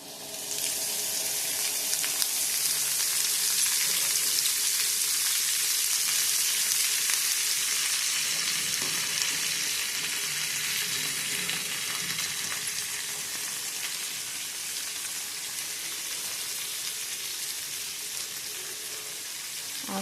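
Amaranth leaves fry and are stirred in a pan for a traditional postpartum curry. A loud, continuous hissing sizzle holds steady and close for the whole stretch, with no talking.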